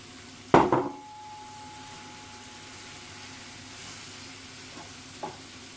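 Rice tipped into a pot with chicken for a Moroccan chicken and rice dish and stirred with a spoon: one loud close scraping clatter, then quiet with a couple of faint taps.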